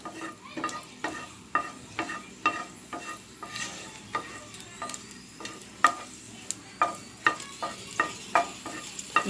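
Cashews frying in ghee for carrot halwa: a soft constant sizzle broken by regular scraping stirs, a dozen or so rhythmic strokes close by, with no talking.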